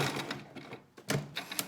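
Sewing machine stitching a seam on a fabric mask, a quiet, fast mechanical whir with rapid clicking that pauses briefly midway and then resumes, heard up close.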